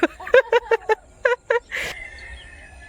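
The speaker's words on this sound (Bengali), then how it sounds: "মুরগিগুলো সব চড়ে বেড়াচ্ছে সন্ধে হলে ঘরে ঢুকে যাবে নিজেদের মতো" Free-roaming chickens give a quick series of about eight short, nasal clucks in an uneven rhythm, then one louder, harsher squawk, heard close up with no talking.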